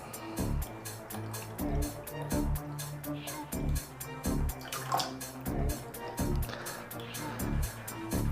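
Water in a basin stirred by hand to test clothes washing, with rhythmic sloshing and splashing pulses repeating about twice a second, fairly close and steady, with no talk.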